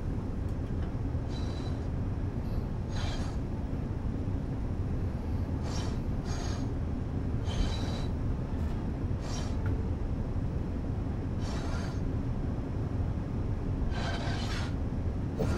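A Taurus 1116 locomotive train in Train Sim World 4 rolls steadily into Salzburg station with a low continuous rumble and hiss, brief brighter squeals of braking rising now and then, with no talk.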